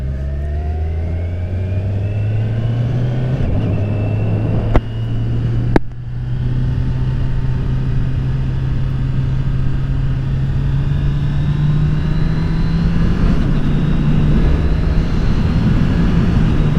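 A 2023 Kawasaki Ninja 1000SX with a quick shifter pulls away, its engine note rising through the gears with brief shift dips and a couple of sharp clicks, loud and continuous from the rider's position.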